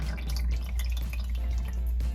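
Water drains and drips from a freeze-proof outdoor hydrant line onto cement, a short burst of irregular close splashes and trickling.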